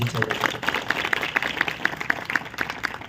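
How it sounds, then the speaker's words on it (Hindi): Clapping from an audience at an RCM campaign gathering, honouring a great personality: dense, fairly even applause with a few sharper, distinct claps showing through a continuous crowd wash. "ऐसी एक महान शख्सियत के लिए ताली बजाएं आप।"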